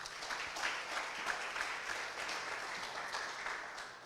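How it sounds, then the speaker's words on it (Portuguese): Church congregation applauding, a steady, fairly faint wash of clapping from a large group that continues evenly throughout with no speech over it. "Vamos aplaudir Jesus?"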